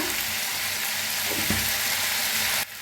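Diced potatoes sizzle steadily in hot oil with turmeric as they are stirred, a continuous close frying hiss with brief scraping stirs, ending in a sudden drop in level.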